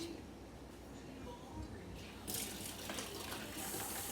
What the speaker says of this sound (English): Let me put the water in first.